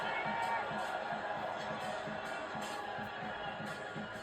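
A large stadium crowd at an NC State versus Washington match roars steadily in the distance, a sustained wash of cheering and noise with rhythmic swells, faint and continuous.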